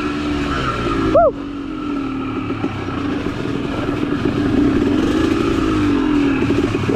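Dirt bike engine droning steadily as it rides a steep mountain trail along cliff edges, loud and close with rough rumble and a brief tire-like squeal early on.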